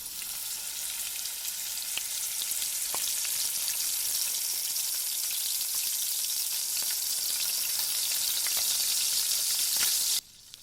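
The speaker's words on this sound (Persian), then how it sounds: "صدای سرخ کردن" Potatoes frying in hot oil give a continuous, close, crackling sizzle with scattered pops that holds steady for about ten seconds, then cuts off abruptly.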